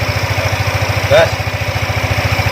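A Yamaha Lexi scooter engine with its CVT open for service chugs in a steady, throbbing idle pulse, with a brief squeal of throttle partway through; a person speaks nearby.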